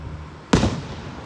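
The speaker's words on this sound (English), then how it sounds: "Love those fireworks." One Independence Day firework explodes with a single sharp bang that decays into a short rumbling tail over faint background noise.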